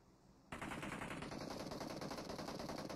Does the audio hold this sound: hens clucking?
no